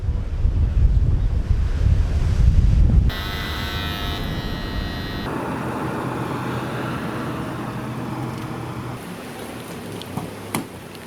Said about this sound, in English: We're gonna go drive down to the beach, see what the waves look like.